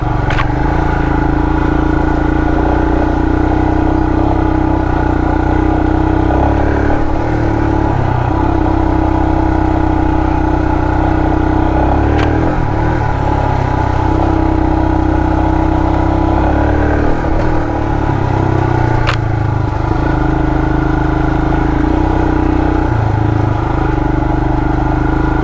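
A Royal Enfield Himalayan motorcycle ridden on an off-road trail, its single-cylinder engine thumping steadily up close with rises and dips in revs and occasional bumps and knocks, wind noise throughout.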